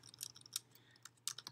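Quick, light clicks of typing on a computer keyboard come in short irregular bursts, faint and close, with no voices.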